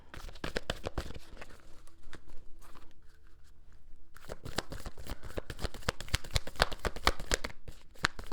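A deck of Moonology oracle cards is shuffled by hand in quick riffling bursts of crisp flicking and slapping, pausing briefly in the middle before resuming, close and fairly quiet.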